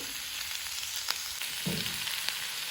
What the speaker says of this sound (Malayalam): കുറച്ചുകൂടി വെളിച്ചെണ്ണ ഒഴിച്ച് കൊടുക്കുന്നുണ്ട്.